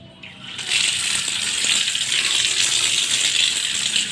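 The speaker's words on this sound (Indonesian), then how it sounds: "saya mau cuci kaki dulu ya" Water pours steadily as feet are washed at a washing area before entering an old mosque, with a constant close splashing gush that begins after a brief quieter start and carries on to the end.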